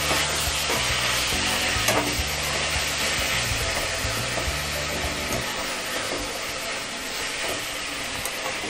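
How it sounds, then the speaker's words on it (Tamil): Tomatoes sizzle loudly and steadily in hot oil for bitter gourd thokku, with a continuous close frying hiss and occasional stirring scrapes, and no talking. "தக்காளி நல்லா வதங்கணும்."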